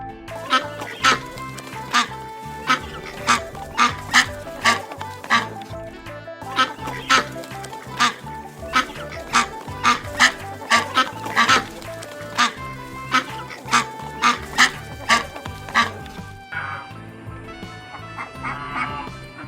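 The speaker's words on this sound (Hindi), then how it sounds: "बत्तख देखें, इसका पानी में तैरना देखें।" Ducks swimming in water at a resort dairy, loud repeated honking quacks from a close flock, bursts of calls following one another in uneven rhythm, with the calls thinning out near the end.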